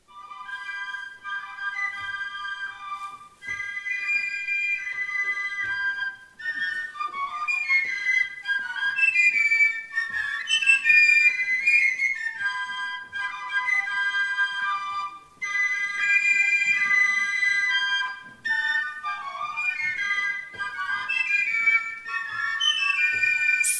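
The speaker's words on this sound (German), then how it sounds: "Da braucht es Pfeifer, die Freude haben und mehrstimmig zusammen spielen." Basel carnival piccolo fifes playing a lively tune together in multi-part harmony, bright shrill melodic lines in phrases broken by short pauses, clear and close with no talk.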